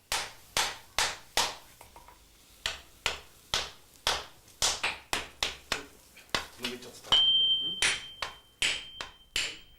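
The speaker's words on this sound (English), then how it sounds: "The commands of the swordsmith's hammer is all that is required." Swordsmith's hammer striking tamahagane steel on an anvil, a steady series of sharp metallic blows in irregular rhythm, close and clear, with a brief ringing tone near the end.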